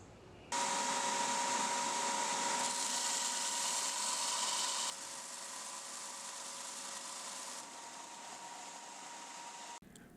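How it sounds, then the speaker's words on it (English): A Wen 4x36 belt sander grinds the bevels of a Wharncliffe knife blade, a loud steady whirring hum that starts abruptly, eases slightly in level partway through, and cuts off at the end. "I'll use a 4x36 Wen belt sander to grind the bevels"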